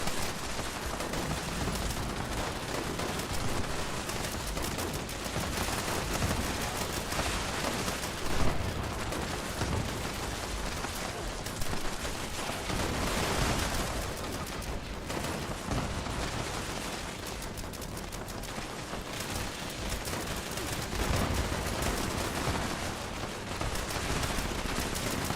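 Gunfire in Fallout 76, a dense continuous barrage of shots and bursts layered over noisy combat, steady and moderately loud throughout with no talking.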